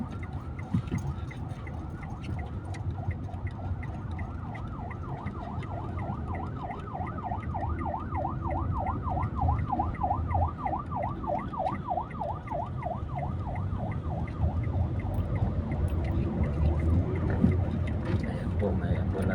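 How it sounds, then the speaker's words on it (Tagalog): An ambulance siren wails in a steady rising and falling pattern through city traffic, clear above the engine rumble and road noise of a vehicle that has pulled aside to let it pass, with a voice speaking now and then. "may ambulansya po kaya pinauna po natin"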